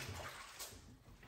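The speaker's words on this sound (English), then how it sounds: "So let me wash my hands." Running water while hands are washed in a home kitchen during crab cooking, a steady close wash that fills the sound alone.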